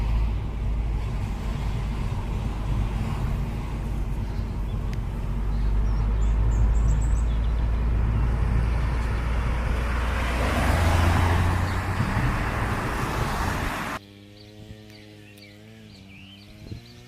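Alfa Romeo MiTo Veloce driving along B-roads, with a steady loud engine and road roar heard from inside the car. The drone rises slightly mid-way, then drops abruptly to a quieter cabin hum near the end.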